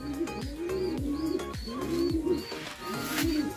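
A pigeon coos close by in a repeating rhythm of soft, throaty, falling notes, about five cycles with faint chirps in the background.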